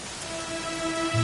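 Steady rain falls in a PS4 video game, a brief, even hiss of drops on surfaces with a faint low rumble near the end.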